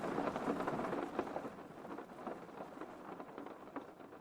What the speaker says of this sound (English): The rain is pretty loud.